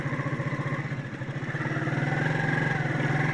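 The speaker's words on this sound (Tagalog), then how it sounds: "buti na lang yung motor natin eh, hindi sumusuko" A motorcycle engine labors through deep floodwater in a low-lying area, its close, steady throbbing idle-like pulse holding on and swelling slightly louder toward the end.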